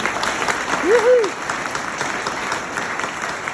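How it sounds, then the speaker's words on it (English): A warm round of applause for the ambassador at an Israeli Independence anniversary event in Melbourne, steady clapping from a crowd that swells briefly near the start, with a rising-falling whistle over it. "Please give the Ambassador a warm round of applause"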